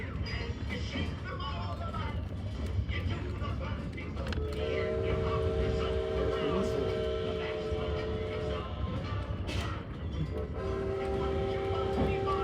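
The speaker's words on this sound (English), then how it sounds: "we'll be crossing Groundhog Cut, where Thomas used to stop" A Strasburg Railroad train rolls past with a steady, heavy rumble while its horn sounds two long, sustained blasts over the running noise.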